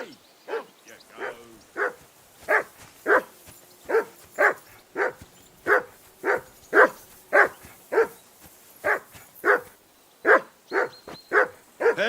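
A dog in the video game Kingdom Come Deliverance 2 barks repeatedly in a steady series of sharp, evenly spaced barks, close and clear over a quiet background.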